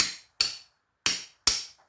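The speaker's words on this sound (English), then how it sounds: "Just the tip of the hammer." A hammer tip taps parts out of an electrical breaker with four sharp, separate metallic strikes, close and loud, each ringing briefly before fading into silence.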